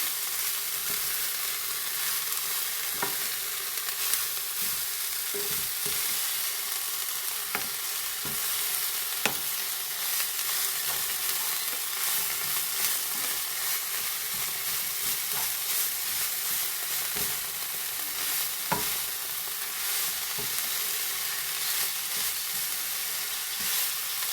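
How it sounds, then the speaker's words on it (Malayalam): Spinach leaves frying in hot oil give a dense, continuous sizzle, broken by scattered sharp clicks of a spoon stirring them in the pan, close and even throughout without speech. "നല്ലതുപോലെ ഒരുപോലെ ഇളക്കി കൊടുക്കണം"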